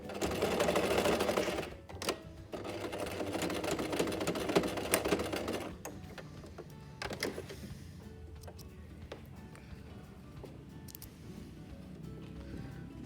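A sewing machine stitching a two-pleat fabric face mask, a quick burst of rapid whirring stitches followed by softer intermittent clicks and taps of handling at close range.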